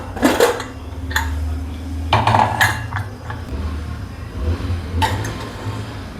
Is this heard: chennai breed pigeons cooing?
no